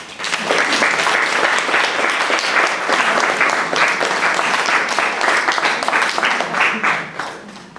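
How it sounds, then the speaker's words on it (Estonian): A gala concert audience breaks into loud, sustained applause, the crowded clatter of hands holding strong before tapering off at the end. "Äkki ta tuleb aplausi peale."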